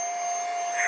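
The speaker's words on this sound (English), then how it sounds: "I have used many bags and many of these little vacuum pumps before, and that is the fastest I've ever seen this done" A small electric vacuum pump compresses clothes inside a vacuum storage bag, a steady high whine with airy hiss, close and loud, briefly rising at the end.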